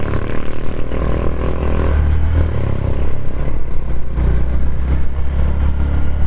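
A Honda Verza 150 motorcycle overtaking on the road, a loud continuous engine drone with wind rush heard from the rider's position, rising slightly in intensity throughout.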